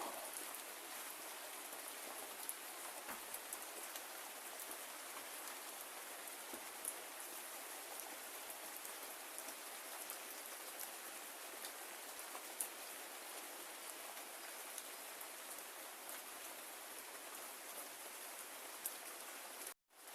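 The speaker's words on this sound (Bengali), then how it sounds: "মানে বৃষ্টি ধীরে ধীরে করে পড়ছে।" Steady, light rain from a low-pressure system patters evenly on a surface for the whole stretch, with no voices and no pauses.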